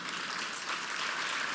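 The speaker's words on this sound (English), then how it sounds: "let's give our raffle winners a huge round of applause" Steady applause from a brunch crowd for raffle winners, dense and continuous clapping that fills the room at a fairly loud, even level.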